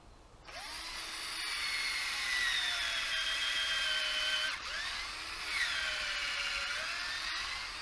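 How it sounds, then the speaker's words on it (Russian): A power drill bores a hole into a birch tree trunk to tap sap, a close, steady high-pitched whine that briefly dips and restarts partway through, with no voices. "Сделаем еще одно отверстие рядом под небольшим углом,"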